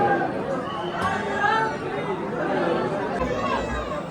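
A dense crowd at Mahakaleshwar temple in Ujjain produces a continuous murmur of overlapping voices, close and steady throughout.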